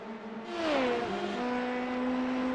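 Race car engine in a Le Mans racing video game on the Mulsanne Straight, a steady high-pitched drone whose pitch drops sharply with a gear change, then settles and holds steady at a loud, even level.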